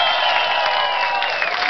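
A studio audience bursts into sustained applause with some cheering, a steady dense clatter of many hands clapping that holds evenly throughout, close and loud in a television studio.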